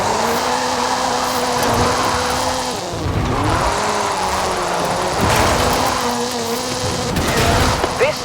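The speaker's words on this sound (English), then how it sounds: "This is Mr. Kenneth Block's Hooligan Gymkhana 10 Ford Focus RS RX" Ken Block's Hooligan Gymkhana 10 Ford Focus RS RX rally car, 2-litre turbocharged with all-wheel drive, in Forza Horizon 5, engine droning loud and steady, revs dipping and rising through gear changes with occasional tire squeal.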